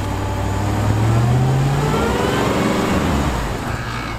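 A Ram TRX pickup's 700-horsepower engine revs hard and steady while the truck tries to climb a steep limestone hill off-road, the loud drone rising in pitch partway through and then easing off.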